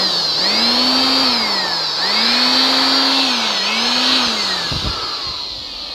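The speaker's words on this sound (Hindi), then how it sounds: "एयर ब्लोअर से हम धूल उड़ाते हैं।" A motorized air blower whirs steadily, its high whine rising and falling in pitch a few times before a brief clatter near the end.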